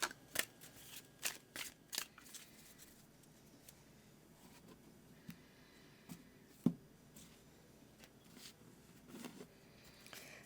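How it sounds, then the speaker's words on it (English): Soft, close shuffling of tarot cards with quick riffles and papery flicks, a few sharper taps and snaps scattered through, quiet and without any talking. "I'm going to go ahead and shuffle now"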